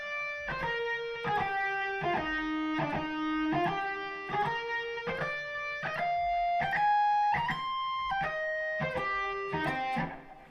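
Lightly distorted electric guitar runs a lick in a short-long rhythm, each quick note snapping into a held one, moving down and back up the neck, played alone and close.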